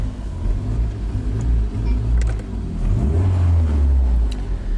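Mercedes W124 car engine idling and briefly revving, a deep steady low rumble that rises in pitch toward the end, close and loud with no speech.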